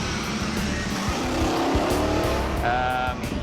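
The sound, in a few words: car engine stuttering on moonshine fuel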